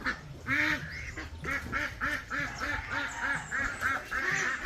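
Free-range ducks quack in a steady run of loud, nasal calls, one after another over a few seconds, close by and with no talk over them.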